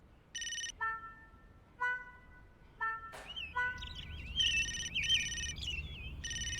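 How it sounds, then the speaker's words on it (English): A mobile phone ringtone plays in short repeated electronic tone bursts with pauses between them, followed by a longer warbling melodic ring, clear and fairly close against a quiet background. "Mr. Money, you're supposed to put your phone on silent"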